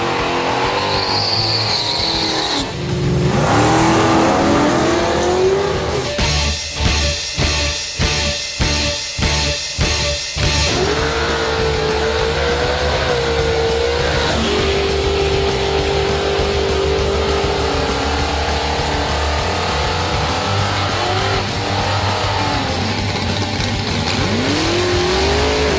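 Race cars at the 2012 Ford Nationals at Calder Park Raceway in Victoria: loud engines roar and rev nearby, with a rapid burst of stuttering, pulsing revs mid-way and sustained high-pitched engine whine as cars accelerate past.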